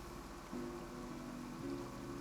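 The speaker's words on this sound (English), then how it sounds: "Oh, look at that! It's raining." Steady rain in the Genshin Impact video game, a soft, even hiss of falling drops with faint tonal background music layered underneath, quiet and continuous.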